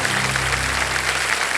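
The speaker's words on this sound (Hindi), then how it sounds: "जोरदार तालियां बज जाए इधर से भी।" Loud studio audience applause on the Kaun Banega Crorepati quiz show set, a dense continuous burst of clapping lasting under two seconds with no voices.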